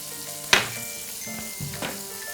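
Onions fry steadily in a pan with a constant hiss, broken by a sharp clink near the start and a few softer clatters of stirring.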